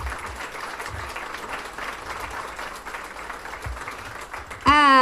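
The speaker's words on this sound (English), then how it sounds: "Let's give him a warm round of applause." An audience at a morning business forum claps warmly for several seconds in a steady, moderately loud round, which ends as a voice begins speaking.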